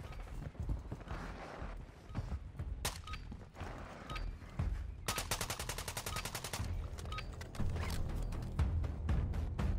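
Shotgun blasts in a video game fired at long range, a dense run of sharp bursts in the middle with scattered shots before and after, loud and near over a busy game soundscape.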